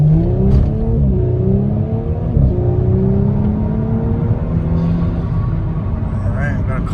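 A stock Audi S4 B9 accelerates hard under boost on a cold day, its engine note climbing and shifting through gears in a loud, continuous in-cabin drone, with a voice talking over it.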